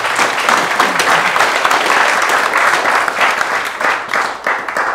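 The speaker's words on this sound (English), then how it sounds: "Let's give him a round of applause." A martial arts seminar crowd in a UK dojo breaks into loud, sustained applause, a thick wash of many hands clapping steadily before thinning slightly at the close.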